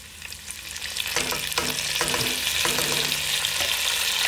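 A tablespoon of garlic sizzles in a pan with sausage and bacon, a steady close frying hiss with occasional stirring scrapes and clinks.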